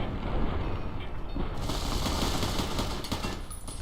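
Custom HK G3SG1 semi-automatic rifle fire in Fallout: New Vegas, a dense, loud run of close gunshots and mechanical clatter, continuous over about four seconds with a brighter burst midway.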